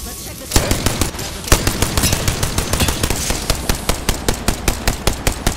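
Rapid bursts of automatic gunfire in Apex Legends, with sharp, evenly spaced shots that fire loud and close and continue almost without pause.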